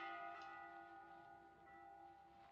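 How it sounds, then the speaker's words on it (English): A ship's bell in the horror video game Layers of Fear 2 rings with sustained, ringing tones that hang and slowly fade, struck again partway through, fairly quiet and alone without talk. "Oh, that's the ship's bell."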